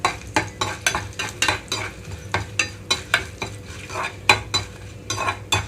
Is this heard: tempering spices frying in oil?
yes